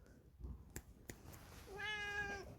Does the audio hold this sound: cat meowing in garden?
yes